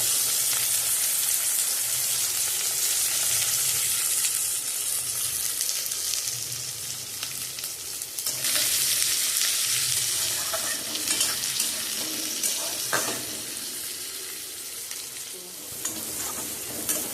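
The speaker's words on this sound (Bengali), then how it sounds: "তেজপাতা আর দারচিনি এবার চলে যাচ্ছে কুচনো করে রাখা পেঁয়াজ" Chopped onion hits hot oil with bay leaf, cinnamon and cloves and fries in a steady loud sizzle, stirred now and then with brief scraping, close up and without speech.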